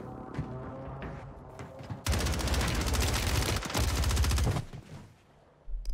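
MTZ 762 rifle fired in a video game: a dense automatic burst of rapid, loud, close shots lasting a few seconds, with a brief break partway and a short quieter gap before a final shot.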